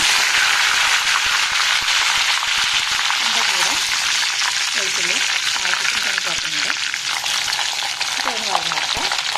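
Curry leaves sizzle in hot oil with popped mustard seeds and fenugreek while a gooseberry pickle is made, a steady loud crackle throughout, with faint voice-like tones in the background.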